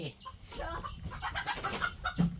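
Farm chickens kept in a coop cluck busily up close, with quick overlapping calls in a rural yard.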